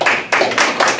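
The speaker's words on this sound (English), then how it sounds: "Very weak applause, by the way." Thin, weak applause from a few people, a handful of close, loud claps in an uneven rhythm over one second, with no voices.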